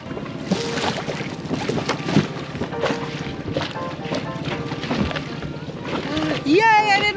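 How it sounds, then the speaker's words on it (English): Small dinghy crossing Marigold Bay off St. Martin toward town, motor drone with wind and water splashes, people talking and laughing over it, a rising whistle-like squeal near the end. "we're gonna take the dinghy into town."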